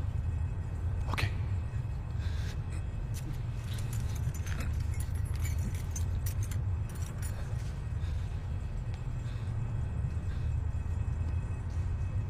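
Car keys jangle and clink in a few brief bursts over a steady low vehicle rumble, with no talk.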